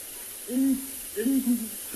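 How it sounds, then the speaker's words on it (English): A hyena calls at dawn on a Kalahari safari reserve, two low hooting whoops in quick succession, distant and faint against quiet background hiss. "Oh, you can hear a hyena in the background as well."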